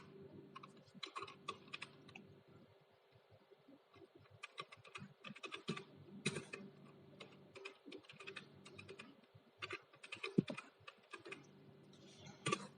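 Typing on a computer keyboard while writing in Microsoft Word, a quiet, steady patter of key clicks in irregular bursts with short pauses, close and alone with no talking.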